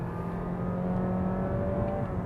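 A Honda City hatchback RS hybrid with the i-MMD engine hums steadily as it accelerates on wet tarmac, a sustained close drone that rises slightly in pitch.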